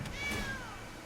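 A domestic cat gives a single short meow, fairly close and clear, with a slight upward then falling pitch, heard alone without talk.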